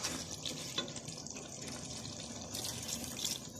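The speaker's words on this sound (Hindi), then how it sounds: "इसमें हमने हाफ कप पानी डालना है ताकि ये मसाले अच्छी तरह चिकन में मिक्स हो जाए।" Half a cup of water poured into a pan of chicken karahi (zeera), a steady close splashing and trickling stream lasting a few seconds with no talk.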